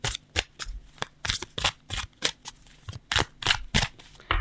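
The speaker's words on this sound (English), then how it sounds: "As I'm shuffling the cards" A deck of tarot cards is riffled and shuffled up close in quick, uneven bursts of papery flicks and soft slaps. It plays quietly and alone for a few seconds.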